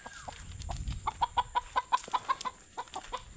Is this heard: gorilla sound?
no